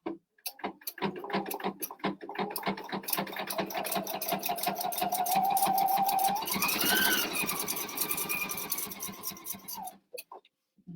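A sewing machine runs a zigzag stitch for about nine seconds, a steady rapid mechanical chatter that speeds up slightly midway, preceded and followed by a few isolated clicks, near and without voices.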